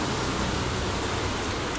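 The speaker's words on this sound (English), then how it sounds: "So you may hear the sound of the rain in the video." Steady, dense hiss of heavy rain pouring down, loud and continuous with no breaks or voices.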